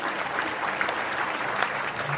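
Applause sound effect played from a soundboard, a steady burst of clapping and cheering at moderate level running the whole time, with no talk over it.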